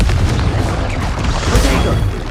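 A Confringo spell explodes in the video game Hogwarts Legacy, a loud, dense boom with crackling bursts that fills the whole moment.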